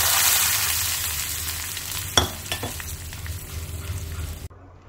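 Vegetable curry (palya) fries in a pan over a medium flame, a soft continuous sizzle with a few sharp scraping stirs near the middle, cut off abruptly near the end, no talk.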